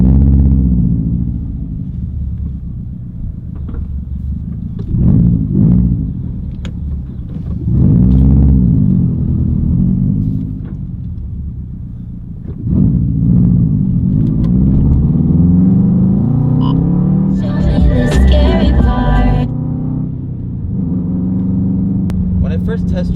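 A 2015 Subaru WRX STi's engine rumbles and rises in pitch as the car accelerates on the road, heard from inside the cabin in swelling waves, with a person talking over it throughout.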